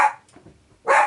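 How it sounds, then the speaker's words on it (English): A dog barks twice nearby in a quiet home setting, with a short sharp bark at the start and another after a near-silent pause. "Oh, dog barking."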